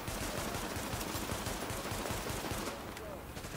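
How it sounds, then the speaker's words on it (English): Automatic gunfire in the video game The Division, a dense, continuous rattle of rapid shots that fades slightly toward the end. "I'll take the gunfire while you run up."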